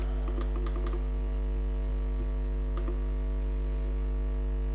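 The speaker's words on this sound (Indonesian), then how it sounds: "tekan shift dalam keyboard" Computer keyboard keys clicking at a desk during spreadsheet work: a quick burst of light taps, then a few isolated presses, close up over a constant electrical hum.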